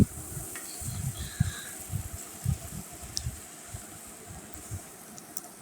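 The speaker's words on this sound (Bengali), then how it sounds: "এখন এর মধ্যে আমি নুডলসগুলো দিয়ে দিচ্ছি। এখন ভালোভাবে নেড়ে নিচ্ছি।" Vegetable noodles are stirred in a pan, giving soft, irregular scraping and tossing clatters over a faint background sizzle, moderately close with no talking.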